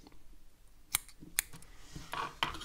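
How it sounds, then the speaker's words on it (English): Scissors trimming cotton wick flush with the edges of an RBA vape deck, three or four crisp, close snips spaced out over a quiet background. "I'm just gonna cut off my cotton pretty much along with the edges"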